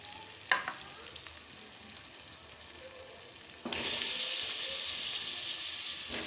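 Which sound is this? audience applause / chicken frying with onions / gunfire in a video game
chicken frying with onions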